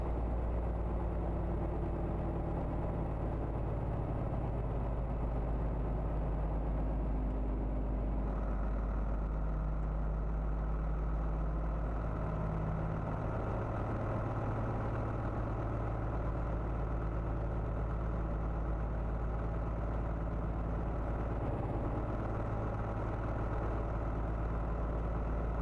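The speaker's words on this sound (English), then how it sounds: "It actually sounds like an older engine that's been used and abused." An old, worn car engine idles at a steady low rumble, close by and continuous for the whole stretch, with no voices over it.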